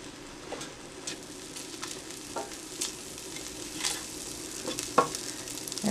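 Unsalted butter sizzles in a hot pot left over from cooking pork chops. A soft, steady frying hiss runs throughout, broken by several light scraping stirs and a sharper clink near the end, with no one speaking.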